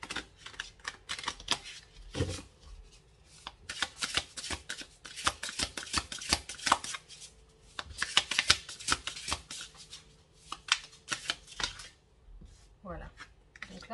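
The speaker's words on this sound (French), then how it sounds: "on va brasser d'abord les cartes." Playing cards are shuffled in repeated riffling bursts, crisp rapid flutters close by, with pauses between rounds and a voice speaking briefly near the middle and end.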